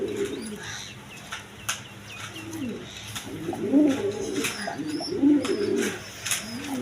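Large black Danish pigeons coo low and throaty in a market pen, with two or three swelling coos standing out over faint chirps and background bustle.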